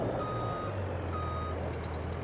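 Steady, evenly spaced electronic reversing beeps from a truck in Farming Simulator 22, close and clear over a low engine hum, with no talk.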